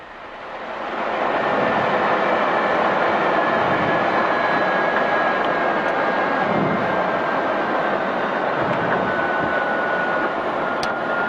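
A McLaren F1 car's engine drones in a loud, steady, smooth roar as the car slows for a corner. A faint tonal whine sits above the broadband rush, and no talk is heard.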